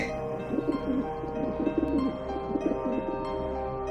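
A pigeon coos softly in repeated rolling phrases, close by, over a steady faint hum.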